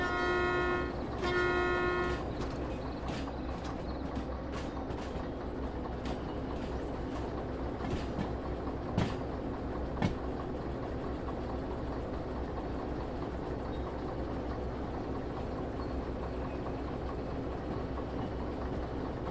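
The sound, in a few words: train rolling on rails in video game Derail Valley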